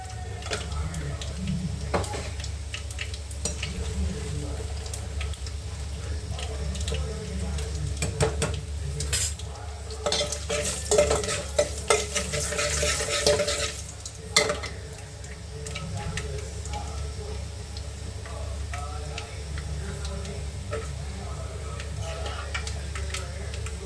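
Tempering spices with a little turmeric crackle and fry in hot oil with steady sizzling, occasional sharp pops and the clink of a utensil stirring the pan.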